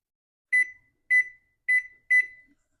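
A kitchen timer being set for 30 minutes while making sourdough bread gives four evenly spaced, clear electronic beeps in a quiet kitchen.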